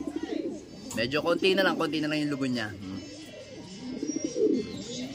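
Breeder pigeons in a loft give soft, low cooing close by, partly under someone talking over them.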